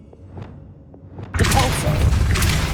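A Levioso spell cast in Hogwarts Legacy, where a soft swish leads into a sudden loud magical burst that holds as a dense, rushing shimmer to the end.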